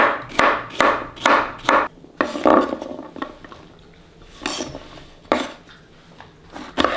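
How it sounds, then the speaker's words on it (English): Knife cutting zucchini into small squares on a board, a run of close, sharp cutlery taps and scrapes in quick bursts with short pauses between, no talking. "We're gonna start by cutting the zucchini."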